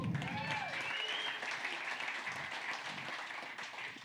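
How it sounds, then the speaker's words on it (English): Crowd applause at a Central Oregon PubTalk event, moderately faint, sustained clapping with some voices and whoops mixed in. "I want to hear applause for that too."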